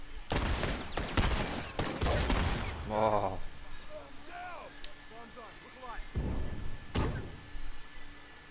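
Shotgun blasts in The Last of Us online multiplayer, several loud sharp shots clustered early, then scattered thuds and a couple more bangs, with someone talking between them.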